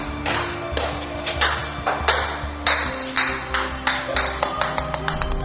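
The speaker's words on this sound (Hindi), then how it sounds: "ऊपर से एक बॉल गिरते हुए नीचे आया" Ball bouncing down a flight of stairs as a horror story effect, a series of sharp hollow thuds and pings that speed up and shorten as they descend, with a low eerie drone beneath.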